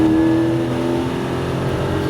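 A Porsche Cayman GT4 accelerates on a track, its engine note loud and close, holding a steady rising drone throughout.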